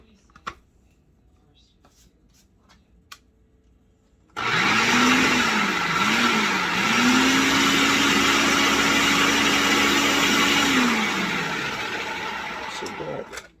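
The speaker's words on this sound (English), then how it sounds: "you're just going to pulse that for just a couple of seconds just to incorporate the flour, the sugar, and the salt" A food processor whirs as it mixes flour, sugar and salt for pie crust. After a few quiet ticks the motor starts abruptly and runs loud and steady for about nine seconds, dipping slightly before winding down.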